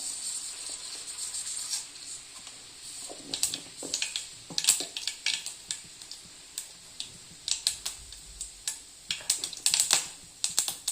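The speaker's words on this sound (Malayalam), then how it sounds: "കടുക് പൊട്ടി" Mustard seeds crackle and pop in hot oil in a pan, a quick irregular patter of sharp little snaps that grows busier over a faint sizzle.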